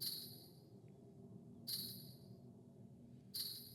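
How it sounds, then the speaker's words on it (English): Three short jingling shakes of a sleigh bell, spaced evenly apart over a low background hum. "Next is the sleigh bell."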